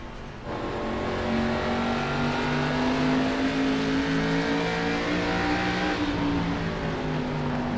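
A short-track race car engine drones and revs loudly at Lucas Oil Raceway, a sustained pitched roar that rises gradually, heard close with no talk.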